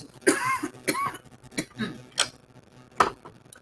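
Several short, harsh coughs spaced unevenly over a few seconds, close and fairly quiet, with no talking.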